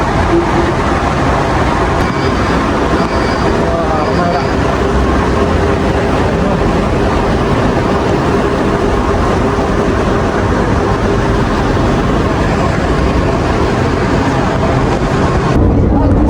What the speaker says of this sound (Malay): Kita naik monorail sekarang.